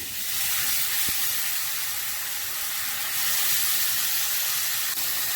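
Boiled, mashed banana flower for a vegetarian ghonto goes into a hot pan and sets off a steady, close sizzling hiss that holds evenly throughout, with no voices.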